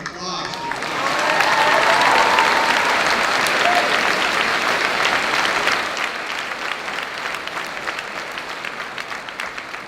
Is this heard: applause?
yes